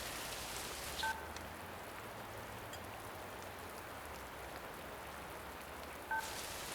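Steady, dense hiss of heavy rain filling the background, with two brief electronic beeps breaking through near the start and end.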